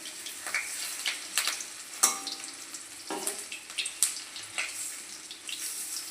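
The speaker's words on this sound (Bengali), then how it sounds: "তেল ছিটকাচ্ছে প্রচণ্ড" Sliced onions for peyaji fry in hot oil in a pan, a steady sizzle broken by sharp crackling spatters and pops close by, with light stirring and a faint trickle of water.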